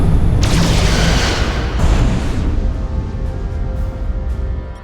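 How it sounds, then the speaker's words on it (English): Photon torpedoes fired in the Star Trek: Resurgence video game, a loud deep boom with a burst of sharp energy at the start, then a long rolling rumble that slowly fades. "Fire photon torpedoes!"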